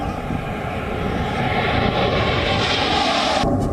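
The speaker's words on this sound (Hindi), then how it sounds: "वायुसेना के विमानों की जो गड़गड़ाहट है आज आप में भी जोश भर देगी।" An Indian Air Force jet at a forward airbase roars loud and close as it takes off, a steady broadband rumble that swells slightly and then cuts off abruptly at the end.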